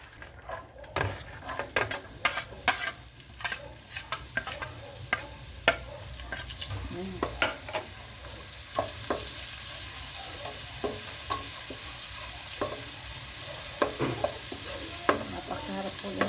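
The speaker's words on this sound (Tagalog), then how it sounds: "nagigisa ng sibuyas bawang sa pinagprituhan" Onions and garlic sauté in leftover frying oil, a steady close sizzle broken by frequent sharp scrapes and clinks of a utensil stirring against the pan, with no talk.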